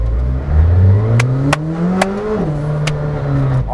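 An 800-horsepower McLaren Senna engine revs up, its pitch climbing steadily and then dropping, with a few sharp clicks cutting through the loud, close mechanical drone.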